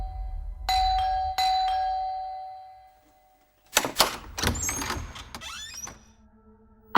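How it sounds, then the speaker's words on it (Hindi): A two-tone chime rings twice, then clattering and mechanical rattling follow, ending with another bright ding. "कब से डोरबेल बज रहा है"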